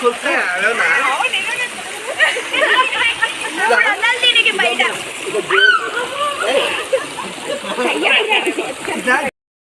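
Water splashes and flows from a spring at the Ahobilam temple, a continuous splattering rush that sits under loud, nearby voices talking for most of the stretch.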